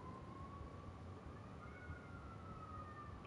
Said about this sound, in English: fucking sirens and shit going off over here